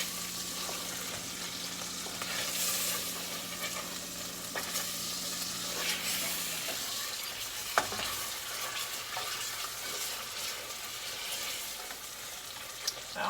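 Butter sizzling and popping in a hot pan, a steady broad crackle throughout with a low hum that cuts off partway and a few sharp pops standing out.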